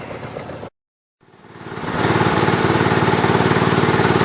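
A tractor engine idles steadily close by after a brief gap, settling into an even, low chugging that grows louder and stays constant.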